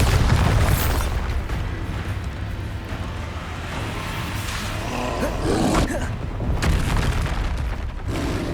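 A Bombarda blasting spell in Hogwarts Legacy lands as a heavy boom with a roaring, rumbling body, followed by more bursts and debris-like crackle amid dense combat noise.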